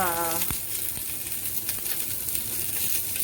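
Big prawns frying in a little oil over a medium flame, a steady close sizzle with a few soft clicks and stirring knocks; a brief voice is heard at the very start.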